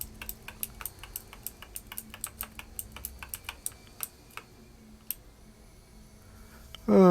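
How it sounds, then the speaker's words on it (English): Steady stream of sharp keyboard and mouse clicks from computer gaming, close and fairly quiet in an irregular typing rhythm over a low room hum, with a louder burst of noise at the very end. "get comfy with, fucking the sound of my keyboard and mouse again"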